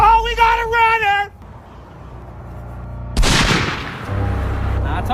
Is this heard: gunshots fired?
yes